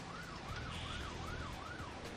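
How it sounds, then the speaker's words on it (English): Ambulance sirens in the Emergency 4 video game with the London mod, a rising and falling wail cycling steadily over a low engine rumble as the vehicles arrive, loud and continuous with no talking. "here come the ambulances"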